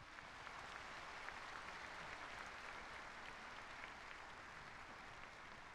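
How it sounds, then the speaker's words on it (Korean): An audience applauds the performers at a Korean Liberation Day commemoration ceremony, steady continuous clapping from a large crowd heard from a distance, soft and even throughout with no talk. "수고해주신 모든 출연진 분들께 다시 한번 큰 박수 부탁드립니다."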